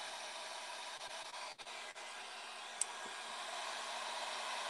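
A heat tool on its low setting blows steadily while drying paint, a close, even airy whoosh with a constant motor hum, uninterrupted apart from a brief dip and one small click.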